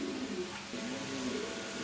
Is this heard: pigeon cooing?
yes